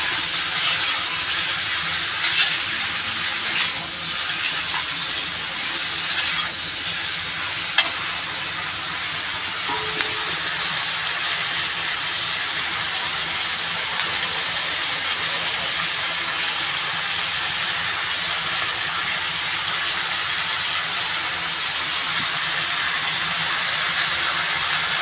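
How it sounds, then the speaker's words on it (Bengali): Bottle gourd with turmeric sautés in a pan, giving a continuous, even steamy sizzle and hiss at close range throughout, with faint scraping of a spatula now and then. "এবার লাউটা একটু কষাবো।"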